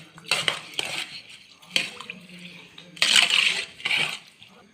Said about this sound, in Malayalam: ടീസ്പൂൺ ഈസ്റ്റ് ഇതെല്ലാം കൂടെ ഇട്ട് നമുക്ക് മിക്സ് ചെയ്യണം ഇളക്കി